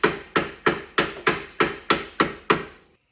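A hammer banging on a Honda CR-V part to bend it for rear disc brake clearance: nine sharp, evenly spaced metallic strikes in about three seconds, each ringing briefly, loud and close.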